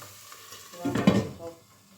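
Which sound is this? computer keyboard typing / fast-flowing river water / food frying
food frying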